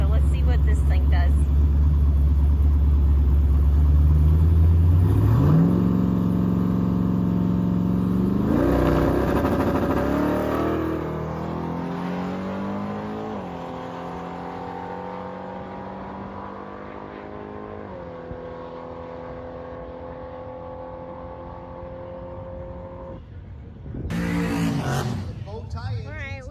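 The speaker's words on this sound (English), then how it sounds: "First hit on the nitrous, so let's see what this thing does." A drag race car accelerates on nitrous, a loud close roar rising sharply through the gears and fading into a long distant drone, with a brief burst of engine noise returning near the end.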